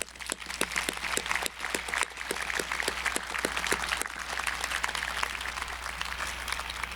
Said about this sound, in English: Please acknowledge him with a round of applause.